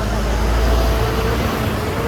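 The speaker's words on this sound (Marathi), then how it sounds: "बस आली आहे" Road traffic rumbles steadily, with a bus pulling in among passing vehicles on a street where a stationary scooter waits; continuous low engine drone fills the whole stretch with a faint murmur of voices behind.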